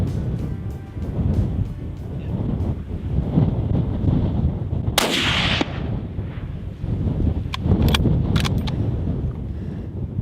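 A rifle shot cracks out once while deer hunting on a ridge, a sharp loud report over steady wind buffeting the microphone, followed by more wind and a few faint clicks.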